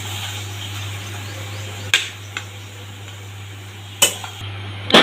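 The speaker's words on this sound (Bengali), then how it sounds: "দেখো গ্যাসটা বন্ধ করে দিয়ে এবার আমি নামিয়ে নিই।" A cooking pot is lifted off a gas stove after the flame is switched off, giving a few sharp metallic clinks and knocks spaced over several seconds over a steady low kitchen hum.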